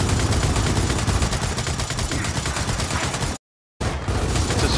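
Rapid sustained machine gun fire from a mounted turret in the video game Gears of War 4, a loud continuous rattling stream that cuts out briefly near the end before resuming, with no voices.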